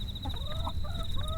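Chickens cluck softly at nightfall in a rural home, a steady high whistle-like tone running throughout with low rumbling background noise beneath the scattered calls.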